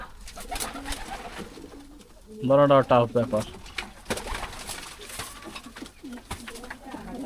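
Racing pigeons gathered for a 400 km race, one bird giving a short, loud bout of throaty cooing close by while people talk around it.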